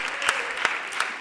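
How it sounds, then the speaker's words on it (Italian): An audience at a comedy show claps in a brief, dense burst of applause with a few sharper individual claps standing out. "potete fare un applauso comunque"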